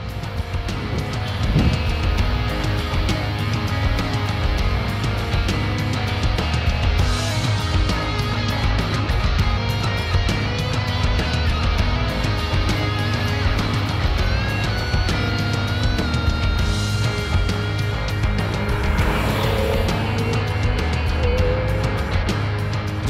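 A 2012 Mitsubishi GT being driven hard on the roads of Muskoka, its engine droning steadily and loudly throughout, with shifting pitch as it accelerates and wind and road roar underneath.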